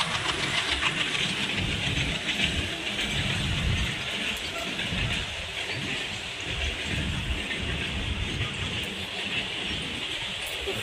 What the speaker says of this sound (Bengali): ট্রেন যাচ্ছে, মালগাড়ি।